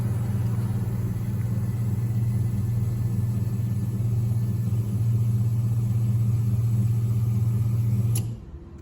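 Nissan Qashqai fuel injectors spraying on a test bench, some with weaker flow than others: a loud, steady mechanical drone and hum that runs unbroken, then cuts off abruptly near the end.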